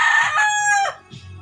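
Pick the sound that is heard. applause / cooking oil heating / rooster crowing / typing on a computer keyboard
rooster crowing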